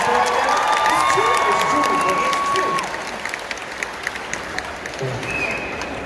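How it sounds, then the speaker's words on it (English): An audience at a Dutch Comic Con panel applauds and cheers loudly, with whoops and shouts over dense clapping that eases slightly partway through and then carries on. "Can we get a round of applause for that answer"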